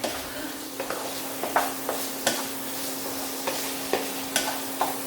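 Pork stir-frying in a pan for Thai pad krapao, a loud continuous sizzle punctuated by regular sharp scrapes and knocks of a utensil roughly every half second, no voices.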